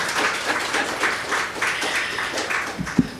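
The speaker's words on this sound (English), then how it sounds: "Please give her a round of applause" Audience applause at an annual general meeting, a steady wash of many hands clapping together across the whole stretch with one sharper clap near the end, without speech.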